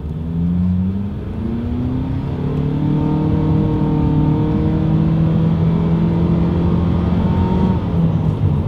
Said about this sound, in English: let's go ahead and actually see what the acceleration feels like here in the Outlander Sport